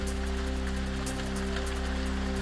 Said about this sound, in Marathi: रत्नागिरीच्या लांजा तालुक्यामध्ये अवकाळी पावसाची हजेरी